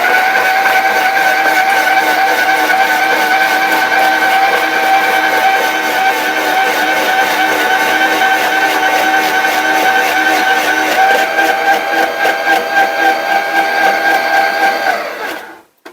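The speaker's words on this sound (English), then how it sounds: "now that our electric grinder is ready to go, I put my baby carrots in this part right here" A Parmedu electric grater shredding baby carrots gives off a loud, steady motor whine with a constant high hum that runs unbroken for about fifteen seconds, then cuts off abruptly at the end. No one speaks.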